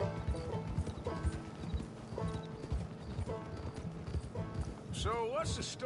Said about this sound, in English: I just never played a game where you could ride a horse.